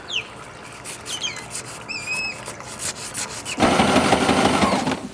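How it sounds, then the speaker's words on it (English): Steady back-and-forth rubbing of sandpaper on wood by hand aboard a boat, growing louder and coarser near the end, with a few bird chirps in the background. "It's a little bit more sanding"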